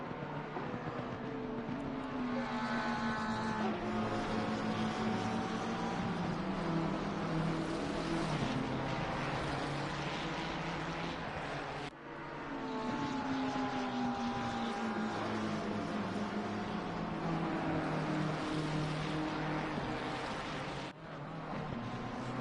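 Onboard engine of the 999 McLaren race car in a racing video game at Zolder, a steady droning engine with rising and falling pitch through gear changes, moderately loud and continuous.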